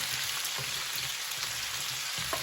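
Red potatoes frying in bacon grease in a pan, giving a steady, dense, close sizzle that crackles evenly throughout with no talking.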